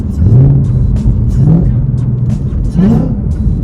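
A supercharged V8 Ford Mustang revs and rises in pitch a few times, loud and close, with supercharger whine and a steady exhaust drone underneath.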